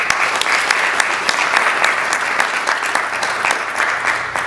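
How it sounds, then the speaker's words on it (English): A conference audience at an Anioma association election gathering claps loudly and steadily for Georgia chapter members, with a thick sustained wash of many hands and a few sharper claps standing out. "please give a round of applause to the Georgia chapter members"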